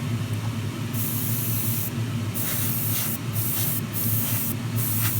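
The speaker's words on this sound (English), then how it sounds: "I put some of the zero aluminium paint in my airbrush. I'm just going to go through, paint the radiators" An airbrush sprays aluminium paint onto 1:24 scale model radiators for a Ferrari LaFerrari engine bay, giving a close, continuous airy hiss broken into several short bursts as the trigger is pulsed.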